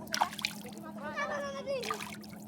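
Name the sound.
washing a child's dirty foot with water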